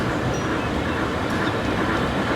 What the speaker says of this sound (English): we'll jump back on the train